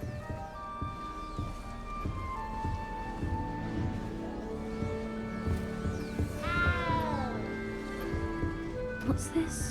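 A cat meows in Hogwarts Legacy, with a few soft mewing cries over game music and ambience, one rising-and-falling meow standing out clearly near the end.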